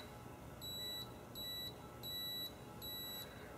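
A spark tester beeps while checking the ignition coil of a Stihl chainsaw that has been converted from points and condenser to electronic ignition: four evenly spaced, high, clear beeps over a steady low background hum.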